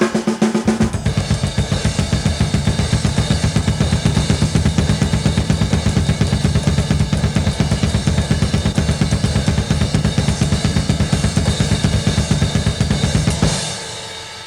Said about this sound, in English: playing the cymbals with the bass drum playing, or the double bass drum playing